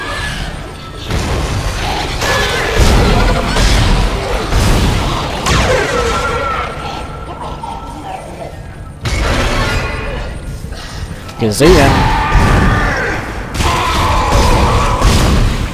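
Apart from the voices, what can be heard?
gunshots in Dead Space video game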